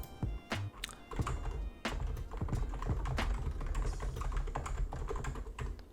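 Fast typing on a computer keyboard while text is entered into OBS Studio on a PC: a steady run of close, crisp key clicks with a few heavier thunks, no talk.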